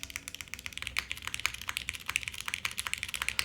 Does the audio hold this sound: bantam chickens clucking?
no